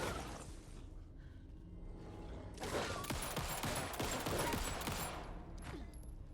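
Rapid bursts of gunfire aimed at a wolf in Alan Wake 2 on Nightmare Mode crackle loudly over a rumbling game backdrop for several seconds, then thin out.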